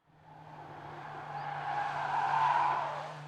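A Mercedes-Benz A 45 AMG or CLA 45 AMG hatch or sedan accelerating hard under full throttle, engine note building steadily with a squealing tire tone over a low hum, fairly faint and distant, no talking.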